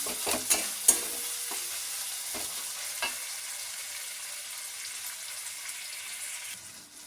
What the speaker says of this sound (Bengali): যদি মনে হয় কড়াই ধরে যাচ্ছে, হালকা হালকা জল দিয়েও ভাজা যাবে